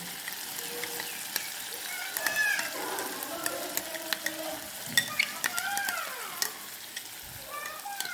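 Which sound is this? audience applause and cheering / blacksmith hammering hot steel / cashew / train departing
cashew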